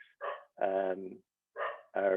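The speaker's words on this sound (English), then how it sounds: "sorry, my dog's barking in the background" A pet dog barks in the background during an online keynote talk, giving several short yips and barks in quick bursts with pauses between them, under and between the speech.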